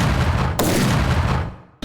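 An explosion in Helldivers 2 roars in a loud, dense burst with a second blast partway through, then rumbles away into near silence before a sharp new impact cuts in at the end.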